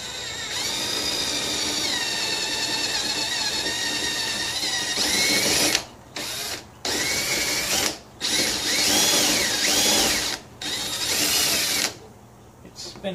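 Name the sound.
step drill bit drilling metal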